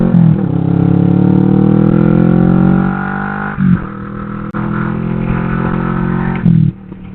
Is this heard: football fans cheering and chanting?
no